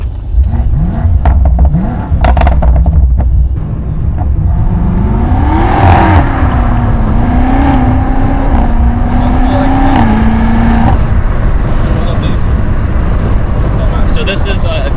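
A 4.4-litre twin-turbo V8 revs up loudly and close, the engine note rising and holding steady for several seconds before dropping off, with people talking over it and heavy wind noise.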